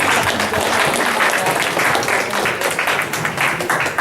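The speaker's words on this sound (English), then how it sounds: "let's welcome her with a round of applause" A room full of people applauds to welcome a speaker back, brisk dense clapping that stays fairly even for a few seconds.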